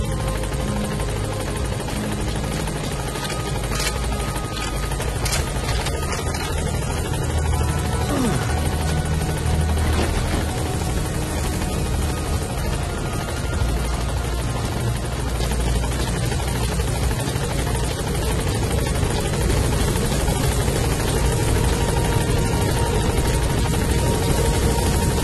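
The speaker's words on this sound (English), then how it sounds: "Support helicopter has arrived." A support helicopter in Metal Gear Solid V arrives with a steady, loud rotor drone and turbine whine that holds for the whole stretch.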